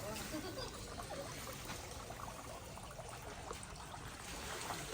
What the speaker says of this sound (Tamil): இப்ப தண்ணி ஊற்றி நீங்க கேட்குங்க